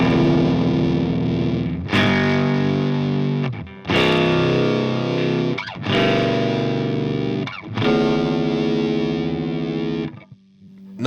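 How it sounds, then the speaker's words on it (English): A DOD Gonkulator ring modulator pedal on electric guitar gives four sustained, metallic, harmonically dense chords, each abruptly restruck about every two seconds, loud and alone with no voices. "there's a lot of overtones and harmonics. That's the ring modulation."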